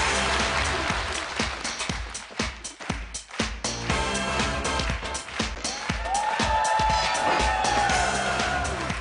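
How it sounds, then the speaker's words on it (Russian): Studio audience applause on the Russian television fashion makeover show Modny Prigovor greets a woman stepping onto the podium, a dense, steady clapping roar mixed with music, fairly loud throughout. "Мы ее поддержим бурными аплодисментами."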